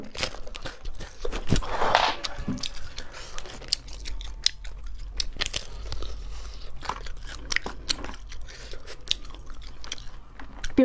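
Frozen, rock-hard spicy latiao strips bitten and chewed up close, with sharp crunchy bites and a run of crackly chewing and clicks, no talking.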